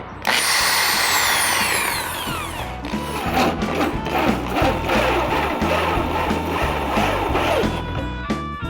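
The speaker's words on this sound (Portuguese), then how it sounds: "vamos lá começar as furações" A power drill fitted with a hole saw bores holes for a suspended vertical strawberry garden structure. After an initial high whine, loud continuous grinding and cutting runs throughout, with the pitch and load shifting as the saw bites in.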